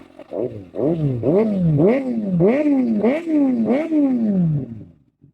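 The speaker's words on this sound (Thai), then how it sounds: "ท่อแต่งครับ JP Racing เดี๋ยวฟังเสียงเครื่องยนต์ตอนสตาร์ทอีกทีครับ" A Kawasaki ZX-6R motorcycle with a JP Racing aftermarket exhaust revs repeatedly in short bursts, each rising in pitch then dropping back, loud and close with a throaty, aggressive exhaust note.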